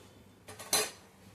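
A lid clatters onto a cooking pot of wild pathri greens set to simmer over a low gas flame: a few brief metallic clinks in under half a second, the last one loudest, then quiet.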